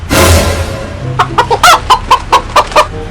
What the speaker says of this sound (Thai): เดี๋ยวก็รีวิวไก่ให้ดูนั่นเอง